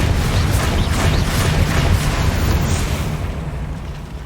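A Confringo fire-blasting curse explodes in Hogwarts Legacy with a loud, rumbling burst that rolls on for a few seconds before fading out, with no talking over it.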